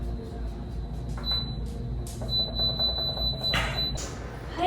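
An electronic pressure cooker timer beeps several times in a kitchen, with short high tones sounding over a low background hum and faint household noise.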